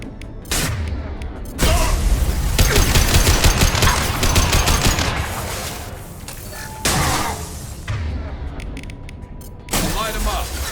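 Rapid gunfire and bursts from a Mass Effect 2 firefight, loud and dense with several pauses, heavy thumping shots and impacts, and voices calling out between volleys.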